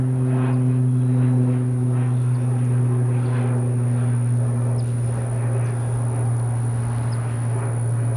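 An E-flite P-51D 1m RC model warbird airplane flies overhead with a steady, continuous motor drone and high whine, holding level throughout without talk.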